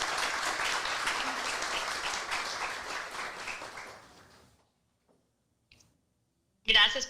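An audience applauds to welcome a speaker at a talk on palliative care: warm group clapping runs for about four seconds and fades to silence, then a short burst of voice follows.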